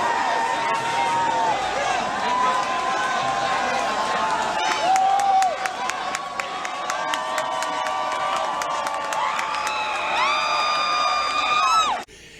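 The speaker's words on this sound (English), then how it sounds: "you notice the police backing up as the crowd moves forward" A large protest crowd in Portland facing police, a dense wash of shouting, whoops and cheering voices, with whistles and scattered sharp noises throughout, loud and continuous.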